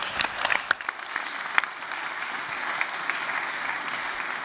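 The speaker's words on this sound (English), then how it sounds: "And how about another round of applause for Sophie and the whole panel?" An audience applauds steadily throughout, dense clapping with a few sharper claps standing out near the start.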